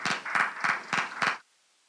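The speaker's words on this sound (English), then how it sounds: "Let's clap for her." A few people in a conference audience clap to welcome a speaker: five distinct, evenly spaced bursts of handclaps, fairly close, then silence.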